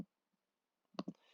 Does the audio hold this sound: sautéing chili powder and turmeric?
no